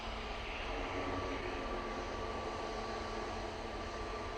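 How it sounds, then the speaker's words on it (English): An airplane at Manchester Airport roars in a steady, loud, broadband engine rumble with a faint sustained whine, close and continuous with no voices. "I think her plane's coming on right in front of me"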